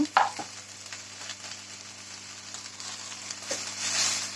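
Moringa leaves fry in a pan for a dal curry, a steady soft sizzle with occasional stirring scrapes and a light clink, close and quiet with no voices.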